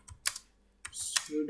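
Typing a Linux terminal command on a computer keyboard, a few sharp, close key clicks in short bursts separated by brief pauses.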